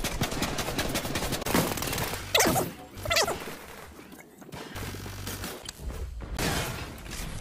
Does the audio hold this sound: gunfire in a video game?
yes